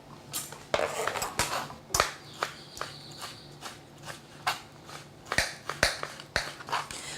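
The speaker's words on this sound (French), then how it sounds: "couper grossièrement l'avocat" A knife chops avocado roughly on a cutting board, a series of irregular sharp knocks spaced about a second apart, close and fairly quiet in a kitchen.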